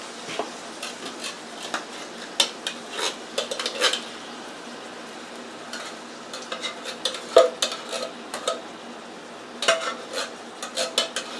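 Boston baked beans are scraped and stirred in a pan on low heat with a utensil, giving repeated clinks and scrapes against the metal and a faint sizzle underneath, with no talking.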